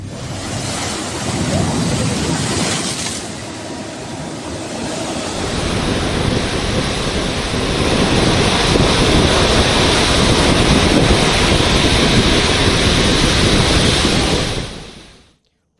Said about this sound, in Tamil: நாகையிலும் கடல் கொந்தளிப்புடன் காணப்படுகிறது